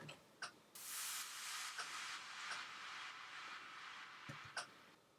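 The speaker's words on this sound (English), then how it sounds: "Then I have just an impact drop effect" Impact drop effect in an electronic dance remix made in Logic Pro: a sudden bright noise burst that swells then sustains as a washy hiss, with a few scattered clicks, fairly quiet.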